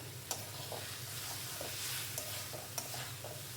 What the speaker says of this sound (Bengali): মশলাটা কিন্তু অনেকটা কষে গেছে।